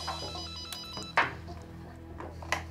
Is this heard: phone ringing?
yes